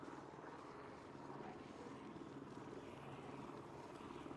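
A helicopter in a video game whirs with a steady rotor and engine drone, faint and continuous throughout, with no talk.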